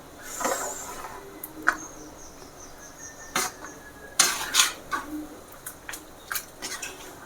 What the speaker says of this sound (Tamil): அப்படியே நல்லா கிளறி விட்டு நம்ம கொஞ்சம் நேரம் அப்படி வைக்க வேண்டியதுதான்